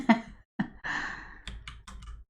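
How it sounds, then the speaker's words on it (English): Computer keyboard keys tapped in short bursts during a Fae Farm game session, a few quick clicks clustered together and separated by brief pauses, close and moderately loud with no talking. "Find my keys on the keyboard."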